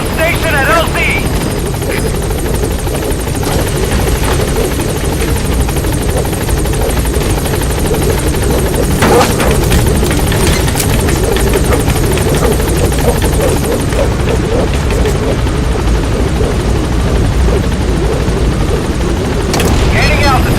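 Pequod support helicopter in Metal Gear Solid V: The Phantom Pain, a loud, continuous rotor thrum arriving at the landing zone, with distant booms and gunfire mixed in throughout.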